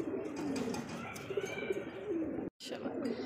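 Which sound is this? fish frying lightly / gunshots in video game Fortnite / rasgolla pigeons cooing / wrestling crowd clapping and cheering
rasgolla pigeons cooing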